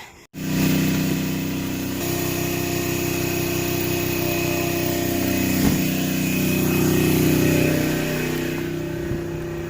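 A media blaster sprays abrasive onto knife scales and pocket clips, giving a loud continuous hiss and roar with a low compressor hum, starting suddenly and running steadily without pause.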